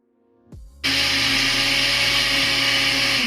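A blender whirs through a honey, Irish moss, spirulina and aloe smoothie, starting with a brief lower burst and then settling into a loud, steady, high-pitched roar that runs unbroken to the end.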